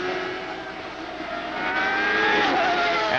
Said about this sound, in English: Listen to Ari as he accelerates up the hill now.